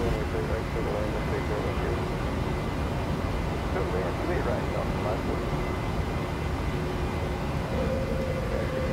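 In the Prepar3D flight simulator, a PMDG 737-800 jet rolls down the runway and climbs away from KSFO with a constant loud engine roar. Cockpit callouts are spoken over the droning noise.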